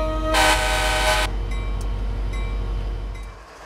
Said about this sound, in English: One feature I really like is the ability to quill the horn as heard here.